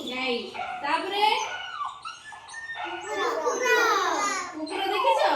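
Dog barking and whimpering, played back as part of an animal sound guessing game, heard in several bursts with children's voices mixed in around them.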